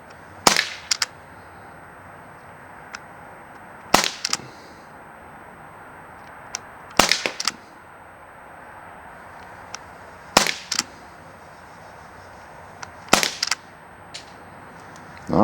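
Umarex Canex CO2 air rifle fired offhand at a 10-yard target: five sharp, loud shots spaced about three seconds apart, each a crisp crack with a brief follow-up tick, over a quiet background with no talking.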